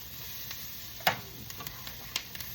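Metal utensil scraping seared beef bits off the bottom of a pan with onions, a few faint scrapes and clicks over a quiet low sizzle, with one sharper scrape near the start.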